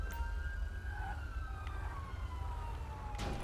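A police car siren in the game GTA V with the LSPDFR mod, a steady wailing tone sweeping slowly across the clip at moderate distance over a low engine rumble, with no voices.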